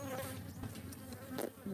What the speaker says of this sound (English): Really a nice hive of bees.